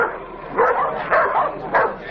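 A dog barks and yips three times in short bursts at a moderate distance, with no talk over it.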